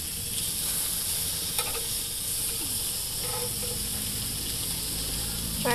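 Food sizzling on a hot skillet at a Korean restaurant table, a steady close hiss with occasional crackles and brief scrapes of utensils, with faint restaurant ambience around it.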